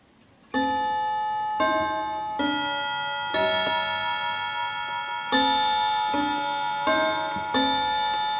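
An antique Davison Bros goldsmiths' clock from London strikes the half hour with a series of bright, ringing chime notes. Each note rings out and decays before the next one sounds, with no talking.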